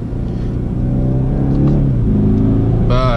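A 4-cylinder BMW engine runs loud and close, with a steady droning hum that rises and falls slightly in pitch as it revs, and a brief higher whine appears near the end.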